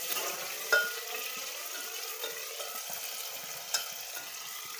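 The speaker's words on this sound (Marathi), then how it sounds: "चांगला असं तळून घ्यायचा लाल होईपर्यंत" Onions frying in oil for veg biryani, a steady close sizzle and crackle with a few sharp clinks of a spoon stirring against the pan.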